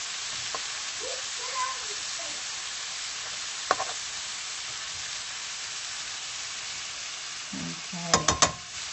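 Thin-cut sirloin sizzles in a pan with a steady, even hiss throughout. A few clicks and utensil knocks come through near the end.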